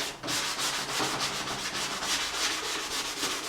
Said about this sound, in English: I used a little sponge sanding block then to do all the concave areas